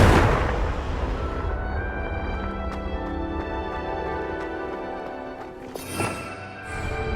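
A Confringo blasting spell in the game Hogwarts Legacy, a heavy booming explosion at the start that decays into a long ringing tail, followed by a smaller burst near the end.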